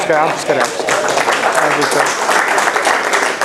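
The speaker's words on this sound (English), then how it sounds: "This is where you're supposed to clap." Audience applause at a men's health and prostate cancer lecture, a dense, steady clapping sustained for several seconds with talking mixed in over it.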